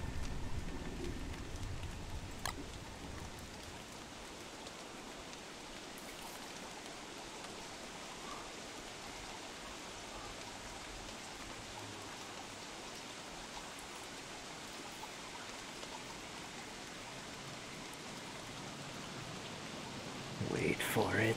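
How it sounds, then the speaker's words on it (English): Steady, even rain hiss in the video game Don't Starve fills the scene, a constant wash of patter with a brief sharp tick early on and a louder shift near the end. "it's raining"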